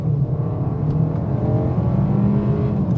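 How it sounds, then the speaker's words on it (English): A 2025 Kia K4 GT-Line turbo car accelerates hard off the line in drive, its steady engine drone and whir heard from inside the cabin and holding at an even loudness throughout. "just throw it in the drive, off the line, on the gas"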